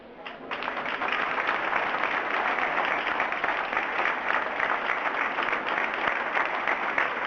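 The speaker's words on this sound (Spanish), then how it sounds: "Yo ahora les pido a todos un fuerte aplauso para José Manuel González Lolo" An audience at a rock history talk breaks into sustained applause, dense clapping that starts abruptly and holds steady and loud throughout, with a faint crowd murmur beneath.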